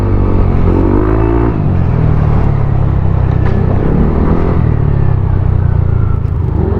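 A loaded motorcycle accelerating along a road, engine rumbling loudly and rising in pitch as it pulls, steady and close throughout.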